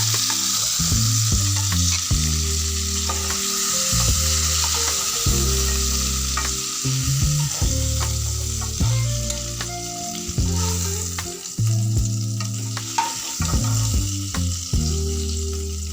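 Chicken pieces for Afghan chicken crackle and sizzle steadily in hot oil, a loud continuous fry with clinks of a utensil and a low rhythmic background hum.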